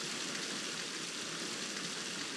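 Water pours from an unplugged spring in the video game Zelda Wind Waker, a constant, even rushing wash with no talking.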